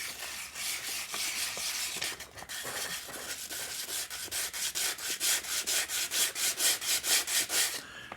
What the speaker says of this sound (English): Can I just sand this?